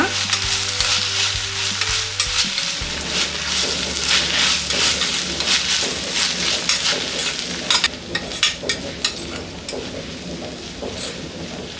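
Ginger paste with cinnamon and cloves fries and is stirred for chicken sambar, a continuous dense sizzle with frequent spoon scrapes and clatter, plus a low steady background hum early on.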